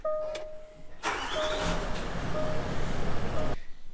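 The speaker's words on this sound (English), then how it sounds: "So let's fire it back up." A Range Rover 4.4 TDV8 diesel engine cranks briefly and catches, settling into a rough, rumbling idle for a few seconds before cutting off.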